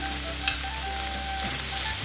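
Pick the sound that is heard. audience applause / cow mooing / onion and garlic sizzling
onion and garlic sizzling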